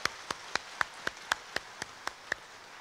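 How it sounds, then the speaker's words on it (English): Sparse, evenly spaced hand claps follow one another at a steady pace for a political anniversary tribute to Mr. Padmore of the People's National Movement in Trinidad, about ten crisp claps with nothing else around them. "A round of applause again for Mr."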